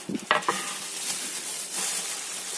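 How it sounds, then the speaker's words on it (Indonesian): Stirring a grated tempeh and carrot mixture in a pan, with a few sharp scraping strokes at the start and then a soft, continuous sizzle and rustle, close by and fairly quiet. "Kocek-kocek sampai tercampur rata wortel dan juga tempenya."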